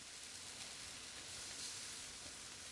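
Stir-fry sauce sizzles steadily in a hot pan with beef and scallions, a faint, even hiss running alone with no talk.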